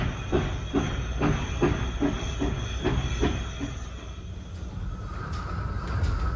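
Train wheels clatter rhythmically over rail joints at close range, a steady clickety-clack under a continuous rumble and hiss, near Lake Joseph Station in Muskoka, then easing to a smoother roll.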